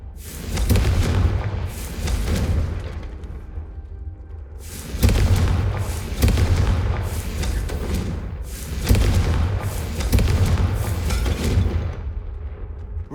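Repeated Confringo fire spell blasts in the Hogwarts Legacy video game, loud booming bursts arriving in clusters with rumbling tails, roughly every second or two across the stretch, with no talk.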